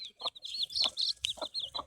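A rooster and hens cluck and call repeatedly at a backyard coop during morning feeding. The busy, close calls overlap in quick bursts with no talking.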